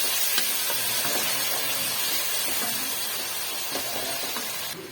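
Loud, continuous sizzling of ginger, garlic and onion in hot oil, a dense broadband hiss with faint stirring sounds underneath, steady throughout and fading slightly at the end.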